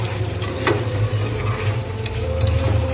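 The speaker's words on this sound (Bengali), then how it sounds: "এই যে আমার মাংস কিন্তু কষা হচ্ছে" Meat is stir-fried in oil in a pan for kosha, with a continuous close sizzle under a low hum and occasional light clicks of a spatula against the pan.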